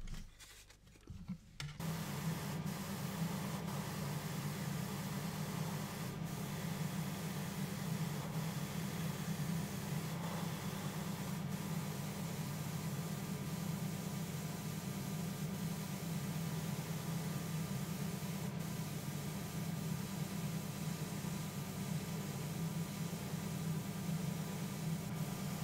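Airbrush spraying black primer into the undercarriage bays of a Special Hobby 1/32 Tempest Mk V model, a steady close hiss that starts after a brief click and continues unbroken.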